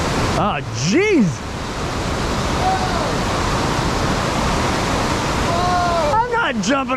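The waterfall at Cascada Gozalandia in Puerto Rico pours in a broad, steady roar of falling water, with people talking and calling out over it at the start and end.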